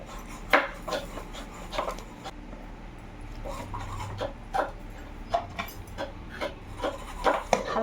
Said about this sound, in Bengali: হালকা নেড়ে চেড়ে দিব।